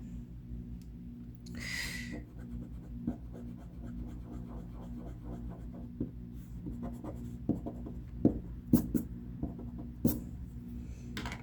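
A pencil eraser rubs back and forth across paper while a comic drawing is erased, giving a steady close scratchy rubbing with a few sharper, louder strokes toward the end.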